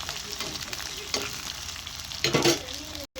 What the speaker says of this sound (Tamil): கருவேப்பிலை தாளிச்சு அடுத்து சின்ன வெங்காயம் கொஞ்சம் நல்லா பொன்னிறமாக வதக்கணும்